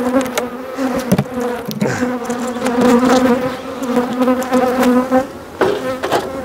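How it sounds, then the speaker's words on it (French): Honeybees buzz loudly at an open hive, a dense steady drone with individual bees zipping close past, alone without talk. "C'est les abeilles qui sont gentilles."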